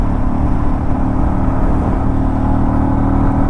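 A Royal Enfield motorcycle engine pulls hard in fourth gear up to about 100, a loud, continuous rising drone with wind rush, close and steady for the whole stretch.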